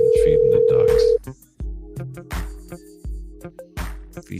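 Telephone dial tone heard while a call is placed during a live sports talk show: a loud, steady, pure tone for about a second, then it cuts off and someone speaks.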